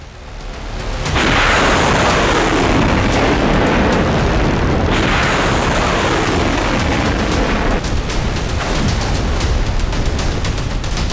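Heavy explosions from Israeli air strikes on Iran boom out in a loud, rumbling barrage, with a big blast at the start and another midway, each followed by long, rolling roar.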